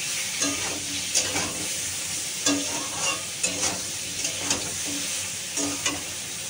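Eggplant fries in hot oil with a continuous sizzle, punctuated by regular scraping clinks of a spatula stirring and pushing the pieces around the pan every half second or so; no talking.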